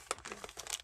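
Thin plastic packaging around a PolyGel nail order crinkles and rustles in short, close bursts as the item is slid out of it, with no voices.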